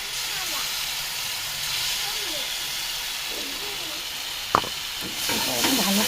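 Spice paste hits hot oil and gives a continuous steamy hiss, with a sharp knock partway through and livelier sizzling afterward, while a faint voice murmurs underneath.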